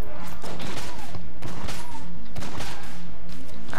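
Rapid bursts of cartoonish gunfire in the bullet-hell dungeon game Enter the Gungeon, loud and close, with several quick volleys and impacts over a busy game soundtrack.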